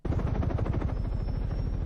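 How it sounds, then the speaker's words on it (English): A helicopter passes overhead, its rotor chop a steady, loud, rhythmic thudding that fills the whole stretch without a break. "What the hell is that? It's a helicopter."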